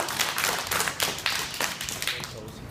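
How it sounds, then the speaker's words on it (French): Young children, around seven or eight years old, clap for their teacher in a lively, slightly uneven burst of hand claps, close and moderately loud, with a few taps and brief voices mixed in. "ça mérite une bonne main d'applaudissement pour Mme Geneviève."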